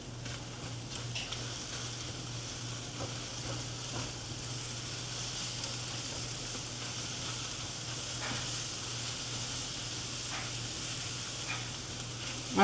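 Butter sizzles in a pan on a stovetop while fillings for an egg and cheese burrito cook, a steady soft crackling hiss throughout with a low hum underneath and no talking.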